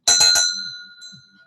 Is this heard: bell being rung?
yes